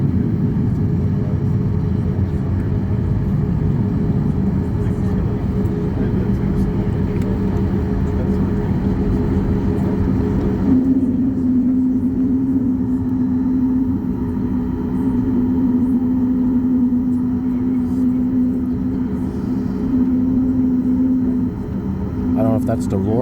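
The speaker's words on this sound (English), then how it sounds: "Listen to those engines on that Rouge." Air Canada Rouge jet engines roar steadily at the airport, a loud continuous rumble with a rising whine that persists through the clip under the talk of a person nearby.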